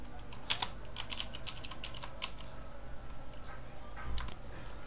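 Typing on a computer keyboard: a short burst of quick, light key clicks, then a pause and a few more taps, close and fairly quiet over a low room hum, with no speech.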